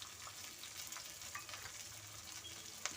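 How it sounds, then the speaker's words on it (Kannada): Chopped onion and curry leaves frying in well-heated oil, a steady close sizzle with scattered crackles and pops running throughout, no voices. "ಇದೆಲ್ಲ ಈರುಳ್ಳಿ ಚೆನ್ನಾಗಿ ಫ್ರೈ ಆದರೆ ತುಂಬ ಚೆನ್ನಾಗಿರುತ್ತೆ ಟೇಸ್ಟು."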